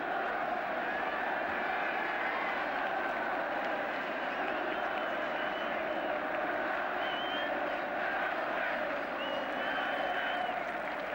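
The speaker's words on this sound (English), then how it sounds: "clapping Liverpool down as a marvellous gesture for what they know to be a tremendous football club" Steady stadium applause from players and the crowd at the 1977 FA Cup Final as Liverpool are clapped off, a continuous even wash of clapping at a distance with no break.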